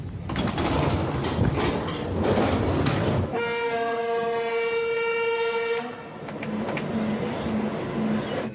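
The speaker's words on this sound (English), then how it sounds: "RT correspondent Ilya Petrenko caught one of the very first trains to Lugansk." A passenger train bound for Lugansk rumbles along with loud rolling noise, then a long sustained horn blast sounds for a few seconds before the steady running noise returns.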